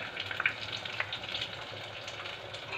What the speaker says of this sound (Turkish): Ben bunu bu şekilde böyle kızartacağım.